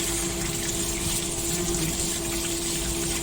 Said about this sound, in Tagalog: sugasan natin ang ating kamatis